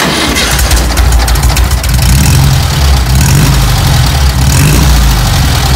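A Volkswagen Beetle (Fusca) fitted with a new stainless steel exhaust tip starts and settles into a loud, steady idle close to the tailpipe, with a continuous low rumble and no speech.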